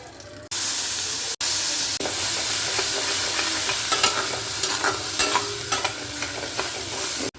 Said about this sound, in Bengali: এইটার মধ্যে ওই পেস্টটা দিয়ে একটু ভালো করে নেড়ে আর একটু শুকিয়ে নিয়ে নেবো